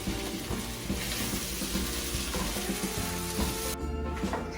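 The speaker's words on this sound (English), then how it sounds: "now we're gonna add the beef and stir it." Beef for fajitas sizzles in a pan as it is stirred, giving a dense, continuous frying hiss close by with faint scraping mixed in.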